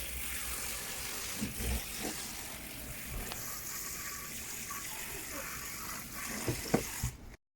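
Tap water runs into a kitchen sink as the two halves of a Meatball Master are rinsed. A steady hiss of water fills the background, broken by faint knocks and clatters of plastic against the basin near the end.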